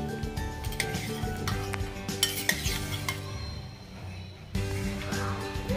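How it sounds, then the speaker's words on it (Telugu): Vermicelli fries in ghee for sheer kurma, with a spoon scraping and clinking against the pan over a close, steady sizzle and a hum in the background. "ఈ నెయ్యిలోనే కొంచెం నెయ్యి వేసుకుని సేమియాలు వేయించుతానండి"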